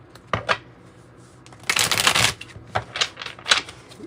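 Tarot and oracle cards being shuffled up close, with crisp riffling bursts and a longer dense flurry of card noise in the middle, no talking.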